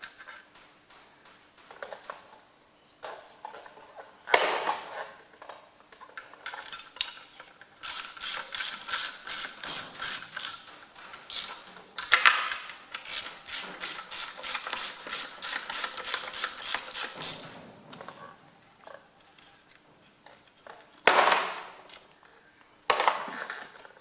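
The crankshaft of a Massey Ferguson MF135 tractor engine, timing gears exposed during restoration, is turned over by hand, giving loud, close bursts of rapid ratcheting clicks in long runs separated by pauses, with no talk.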